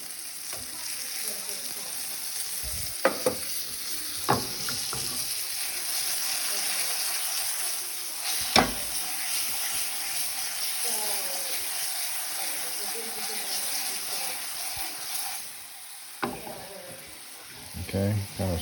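Pheasant sizzles and fries in a pan, with a steady crackling hiss and occasional clinks and scrapes as it is stirred around, close up, and a voice talks at times.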